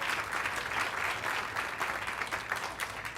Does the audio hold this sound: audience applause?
yes